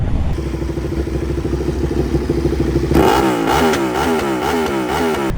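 A V2 motorcycle engine, the type used in the Ducati 1199 and 1299, runs loud and close, holding a throbbing idle before revving up into rising and falling surges of roaring exhaust.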